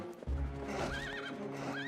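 A horse in the Zelda Twilight Princess video game gives a loud, clear whinny lasting under two seconds, rising and wavering, with a brief thud of hooves at the start.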